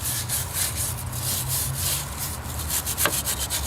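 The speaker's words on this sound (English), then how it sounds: "We got a wire brush here." A wire brush scrubbing corroded aluminum, rapid rough back-and-forth scratching strokes, loud and close, continuous with a sharp scrape near the end.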